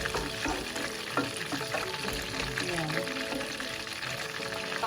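Lumpia fry submerged in oil in a pan, giving a busy crackling sizzle with small bubbling pops, while a voice talks over it.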